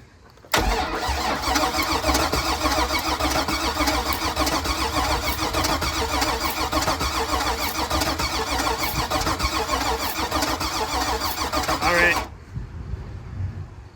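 A V8-swapped Chevrolet S10 engine fires up abruptly and runs at a loud, steady, rough idle close by for about twelve seconds, then cuts off, leaving faint background noise.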